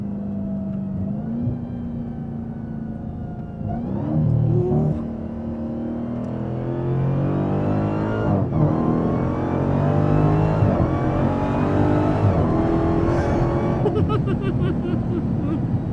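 A Dodge Demon 170 engine revs hard and climbs through gears in manual mode, a loud continuous roar with rising pitch and brief shifts, close and steady throughout.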